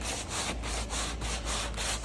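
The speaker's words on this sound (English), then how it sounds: "block this bumper filler out, get it smooth" A sanding block works over filler on a car bumper, likely a Ford AU Fairlane, in close, regular back-and-forth strokes, about eight rasping passes with a steady rhythm and no talking.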